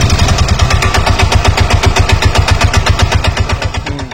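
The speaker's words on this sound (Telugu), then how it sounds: "ఈ బజాజ్ ఇంజన్ బీటింగ్ ఎలా ఉందనేది కింద కామెంట్లో చెప్పండి." A Bajaj motorcycle engine idles alone with a steady, fast, even thumping beat, loud and close, running without a break and easing slightly toward the end.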